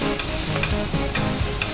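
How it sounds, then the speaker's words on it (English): Monkfish being basted in a hot pan of browning whole butter with thyme and garlic, giving a steady close sizzle with soft spoon-stirring scrapes and occasional louder crackles, no voices. "And we're gonna baste our fish."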